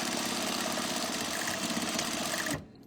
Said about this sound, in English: So I'm just sewing the strap down.